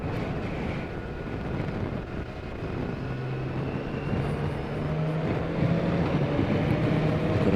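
A BMW K1600 B motorcycle engine builds speed on a straight, a steady rising drone mixed with heavy wind rush at the microphone and a faint engine tone climbing in pitch toward the end.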